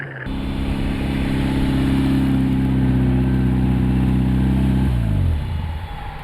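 A Caterham sports car engine drones loud and steady at close range while the car drives into the pits, its pitch dropping as it slows near the end, with no talk over it.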